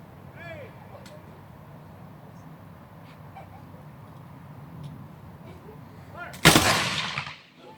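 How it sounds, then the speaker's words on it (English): Musket volley fired by historical reenactors at Fort Snelling: a single loud, sharp blast from several muskets going off together, with a decaying rumble after it, following a stretch of faint background murmur. "That was a nice volley."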